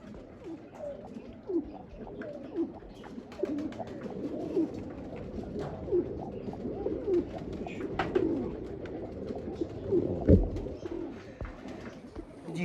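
Several Chapray breed pigeons cooing repeatedly, soft throaty calls overlapping at a moderate distance, with light rustling in the background.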